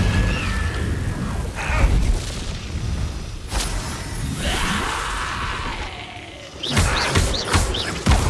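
Booming fiery blast of the Incendio fire spell cast in the Hogwarts Legacy video game, a loud whooshing burst among other spell effects and thuds, with no talk.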